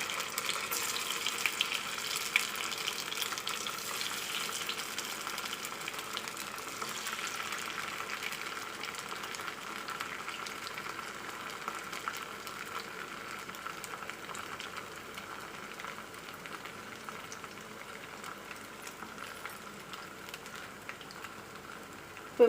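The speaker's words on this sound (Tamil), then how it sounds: "இப்போ அதை வந்து எண்ணெயில் போட்டு பொரிச்சிக்கலாம். நான் இப்போ வந்து தேங்காய் எண்ணெய் விட்டு பொரிக்கிறேன்." Marinated fish frying in coconut oil in a pan on medium flame, giving a steady, dense crackling sizzle that runs throughout at moderate loudness, with no talking.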